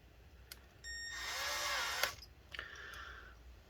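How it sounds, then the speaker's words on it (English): A power drill bores out the plastic divots holding a metal plate inside an Acer Aspire A717-72G laptop, with one sustained whining burst of about a second, then a couple of shorter spurts up close, no talking. "We're just going to be drilling out every single one of these plastic divots that are holding this"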